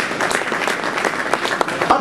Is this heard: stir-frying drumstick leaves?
no